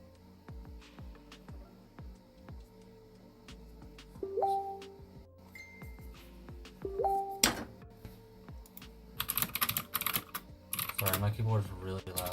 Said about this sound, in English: my keyboard's really loud